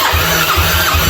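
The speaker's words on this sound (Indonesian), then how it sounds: "Nah, gimana kalau kita coba starter ya? Kita nyalakan." Yamaha Nouvo Sporty motorbike engine starting up, a close, loud, chugging rhythm of low pulses with a steady buzzing hiss above, brief and continuous.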